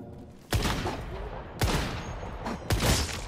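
Gunfire in a firefight in the survival shooter Once Human: three sharp, loud bursts of rapid shots roughly a second apart, each trailing into echoing rattle, with no speech over them.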